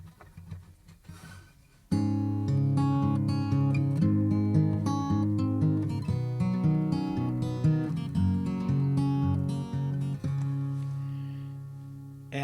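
Guitar chords strummed in a slow progression, starting quietly for a couple of seconds, then ringing out full and close with sustained, overlapping chords that gradually fade near the end.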